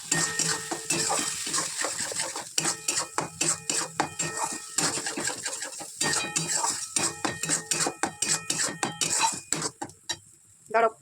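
Spice masala with turmeric and Kashmiri chili powder stirred and fried in a pan, a utensil scraping and clinking against the metal in a steady, busy rhythm with a soft sizzle beneath, close and fairly loud.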